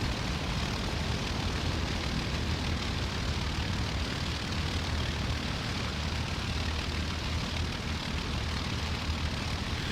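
Aircraft engines drone in a flight video game mod as a formation of eighteen planes takes off, a dense, steady roar that fills the whole stretch without letup.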